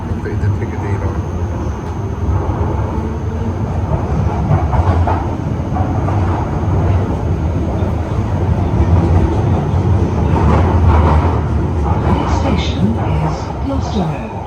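A London Underground Piccadilly line tube train runs at speed with a loud, steady rumbling roar and rattling clatter, close and continuous, with indistinct voices under the noise.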